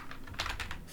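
Quick keystrokes on a computer keyboard while entering a search value in an auction-house addon, a short burst of several close clicks over low background hum.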